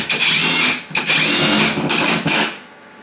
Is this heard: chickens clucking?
no